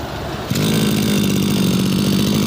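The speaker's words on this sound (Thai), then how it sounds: "เครื่องยนต์ทำงานได้นิ่มนวลมากนะครับ เครื่องยนต์ติดง่ายนะครับ" A small two-stroke engine on a used brush cutter starts up abruptly and keeps running at a steady, buzzing idle, loud and close, with no voices.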